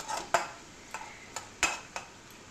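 A pot of radish greens and dal with turmeric being stirred, several soft spaced scrapes and taps of a spoon against the pot, quiet and close with a faint background hiss.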